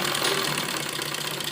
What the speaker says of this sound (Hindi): और किनारे किनारे पर हम सिलाई लगाएंगे।